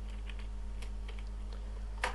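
A few light keystrokes on a computer keyboard while text is entered in an editor, soft scattered taps with one sharper click near the end, heard close over a steady low hum.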